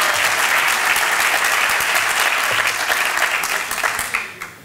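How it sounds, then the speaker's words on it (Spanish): An audience at a business gala in Finestrat claps steadily in a hall, a thick, even wash of applause that holds, then tapers off and fades out at the end. "Un aplauso para ver si se tranquiliza un poquito"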